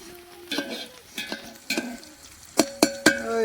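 Chicken biryani stirred in a pot outdoors in a village, a ladle scraping and clattering against the metal in several separate strokes, fairly close and loud, with a soft sizzle underneath.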